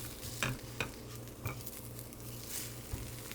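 An egg fries in a pan with a soft, steady sizzle while a spatula scrapes and taps against the pan a few times, and a low hum runs underneath.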